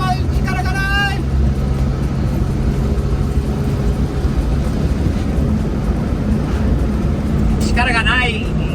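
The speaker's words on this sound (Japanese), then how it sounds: "力がないけどスムーズに走る車だよね" A Honda Acty kei truck drives along with a steady, low engine and road drone that runs continuously underneath. Chirping bird-like sounds rise briefly near the beginning and again near the end.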